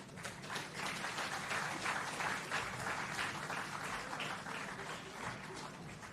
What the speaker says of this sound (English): Another round of applause for the chairman of the NCB Financial Group, the Honorable Michael Lee Chin.